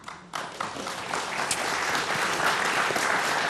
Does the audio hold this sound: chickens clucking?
no